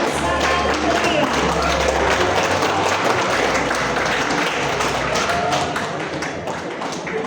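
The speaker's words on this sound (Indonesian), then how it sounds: "Sekali lagi mari kita beri tepuk tangan yang sangat meriah." Dense, steady applause from an audience at a book launch for a school history book fills the whole stretch, loud and close, with continuous clapping and a low rumble underneath.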